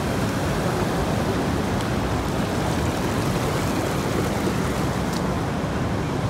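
Waterfall at Fourteen Falls in Kenya: a dense, steady, unbroken rushing roar of falling water, loud and close, with no voices over it.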